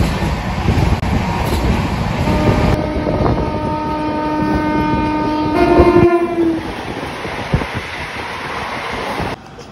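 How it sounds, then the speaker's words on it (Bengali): The Barbil Jan Shatabdi Express rumbles and clatters along the tracks as it departs toward Tatanagar, with a loud horn sounding twice in the middle and wheels clicking steadily underneath. "আমাদের ট্রেন বারবিল জনশতাব্দী এক্সপ্রেস ছেড়ে দিল টাটানগরের উদ্দেশ্যে"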